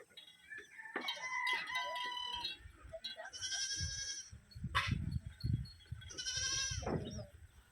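Chickens and other farm animals in a rural village in Savannakhet, Laos: several rooster crows and goat-like bleats ring out in separate bursts at moderate distance over a quiet background.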